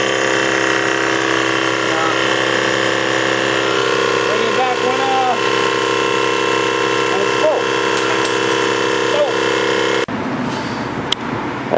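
A Harbor Freight air compressor fitted with an auto drain runs with a loud, steady motor drone and whine, then cuts off abruptly near the end, leaving a quieter background with a click.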